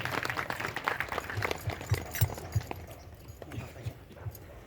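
Applause from an audience at a Gujarati bhajan satsang gathering, scattered hand claps rising and thinning out over a few seconds in a reverberant space, with faint voices underneath.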